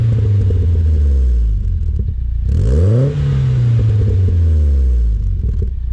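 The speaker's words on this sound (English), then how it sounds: "It's a stock KA. It's not gonna sound great, but it sounds better than it did with the stock exhaust." Nissan 240 with a stock KA engine and aftermarket exhaust revving close by, a loud deep rumble that climbs sharply in one hard rev, then settles back to a steady idle, with no talk.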